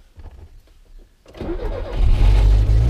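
A Lada 2105 car engine cranks with quick starter whirs, then catches and roars up to a loud, steady idle, heard close and alone.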